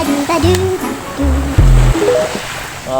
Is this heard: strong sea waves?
yes